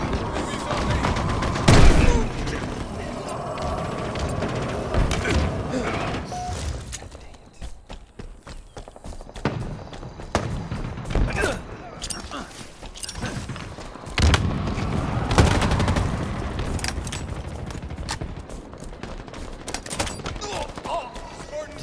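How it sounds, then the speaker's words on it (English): Bursts of heavy shotgun fire in Halo Infinite multiplayer, loud close blasts clustered near the start and again mid-way, separated by quieter stretches of footsteps and battle ambience. "So it's a shotgun, that's what it is."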